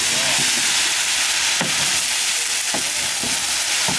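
Catla fish fries in a pan with onion and spice pastes, a loud, steady sizzle and hiss throughout, broken by a few soft knocks of stirring.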